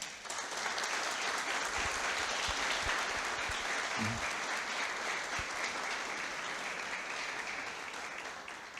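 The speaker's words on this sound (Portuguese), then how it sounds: "o recebam com uma salva de palmas" Steady, sustained applause from a large crowd fills the whole stretch, dense clapping at an even level that eases slightly toward the end.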